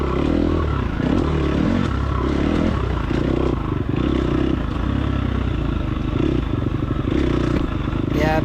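A dirt bike pounds over a section of whoops on a hot, dusty ranch trail, its engine revving and bouncing in uneven bursts with rattling clatter, loud and close throughout.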